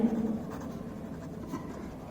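Chalk or marker scratches quietly on a classroom board during an English grammar lesson in a brief run of short strokes, faint and close with no talk over it.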